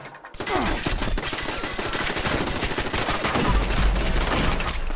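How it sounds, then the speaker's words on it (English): Dense, continuous gunfire from enemies in Fallout 76, rapid overlapping shots like a sustained fusillade with machine-gun bursts, loud and steady throughout with no talking. "See how they were shooting over there?"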